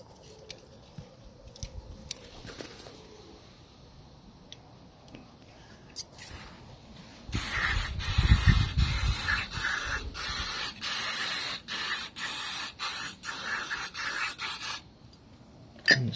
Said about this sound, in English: just get your bit of brake cleaner.